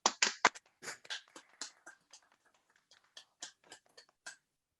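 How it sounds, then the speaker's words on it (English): A few people at a scholarship awards ceremony give sparse, scattered handclaps, each sharp and distinct with gaps of silence between them, fading to just a handful of isolated claps. "Can I give one last round of applause to all our Persevere Squad"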